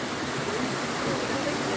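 A cascading waterfall on the Rečička river roars in a steady, dense rush of falling water, close and continuous with no pauses.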